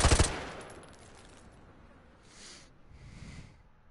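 A single loud gunshot in Call of Duty aimed at a fleeing target's leg, a sharp crack at the start that fades into a decaying tail, followed by faint breathy noises.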